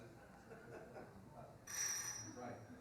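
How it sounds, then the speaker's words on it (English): A small bell is struck once and rings on with a clear, sustained tone. It is faint against a low, steady background hum. "I just want to make sure that first bell gets rung"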